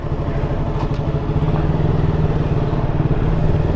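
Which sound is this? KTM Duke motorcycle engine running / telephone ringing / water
KTM Duke motorcycle engine running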